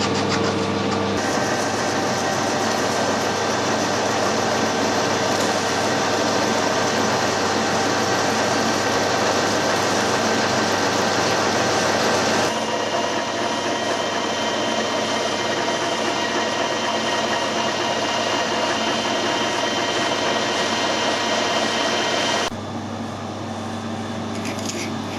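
A lathe takes a 1mm cut on a steel motorbike fork spindle with a loud, steady broadband whine and hum that runs unbroken for about twenty seconds, then drops slightly as the cut ends.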